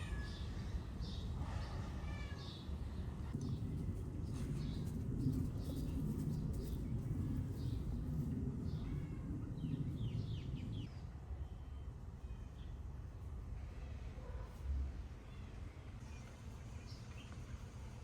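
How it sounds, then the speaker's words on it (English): A cat meows repeatedly at a distance over a steady background hum, with faint bird coos mixed in, in Ajijic, Mexico. "my cat cries at the neighbors"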